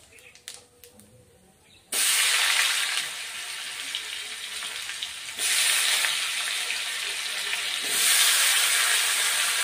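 Washed, cut new potatoes drop into hot oil tempered with cumin seeds, setting off a loud sizzling hiss that surges in three successive bursts after a quiet start.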